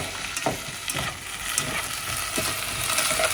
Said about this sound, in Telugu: ఇందులో కొంచెం సాల్ట్ కూడా వేసుకోండి, ఇది మంచిగా మనకి ఫ్రై అవ్వాలి